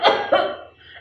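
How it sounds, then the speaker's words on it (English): An old, thin horse in a story coughs twice, two short harsh bursts close together, followed by a fading breathy tail, heard alone without speech. "And then she started to cough."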